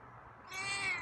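A single short meow from a feral cat, rising sharply at the end, heard close against a low background hum.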